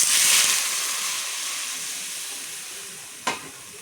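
Egg curry gravy with potato poured into a hot pan, a loud burst of sizzle at first that settles into a steady softer hiss, with a single sharp spatula clink near the end.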